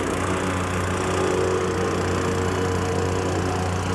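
A small plate compactor's engine runs on a construction site during base preparation for a geogrid-stabilized segmental retaining wall, giving a steady, unbroken droning hum that stays level throughout with no voices.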